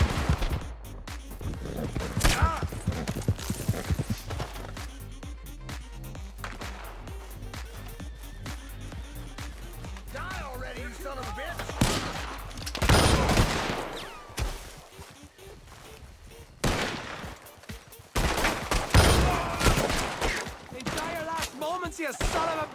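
Gunfire rings out in a Red Dead Redemption 2 shootout at a toll bridge, a rapid volley of close shots followed by scattered bursts and single reports, with shouting voices and game sounds mixed in.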